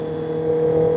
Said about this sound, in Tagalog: maingay yung motor ko